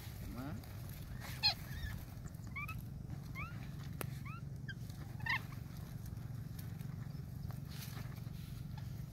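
Fowl call at night during bird trapping in wet outdoor ground: several short, faint rising chirps and clucks scattered over a low, steady rumble of background noise, with occasional soft rustling.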